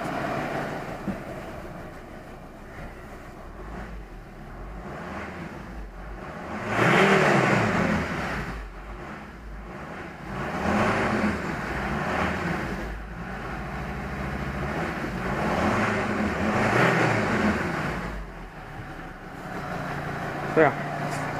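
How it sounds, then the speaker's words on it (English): A 2012 Volvo XC90 engine revved several times, rising and falling swells of engine roar in a repeating pattern, fairly close, with occasional talking between revs. "Okay, so now what I'm going to do is just rev it up a bit."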